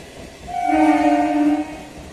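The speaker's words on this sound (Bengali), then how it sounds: "31824 down Krishnanagar city Sealdah local Kakina station platform number 2-তে আসছে" A Krishnanagar City to Sealdah suburban local train arriving at platform 2 of Kankinara station sounds one sustained, moderately loud horn blast lasting about a second, rising out of a quiet platform background and then fading.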